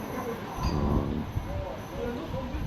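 A voice imitates a train, a rumbling, rushing hum with a squealing edge, close and fairly loud for a few seconds.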